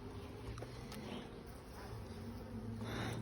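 Honey bees swarm around an open beehive during a check for hive beetles and wax moth, a steady close buzzing drone of many insects with no talk.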